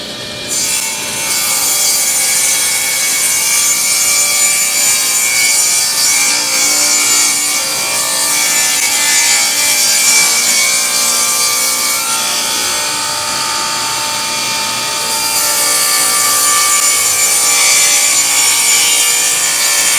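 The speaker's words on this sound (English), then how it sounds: "we're going to rip these at 1 inch to make our boxes" Wooden boards being ripped into 1-inch strips on a saw in a workshop, a loud continuous cutting whine and rasp that holds steady for the whole stretch with no talk.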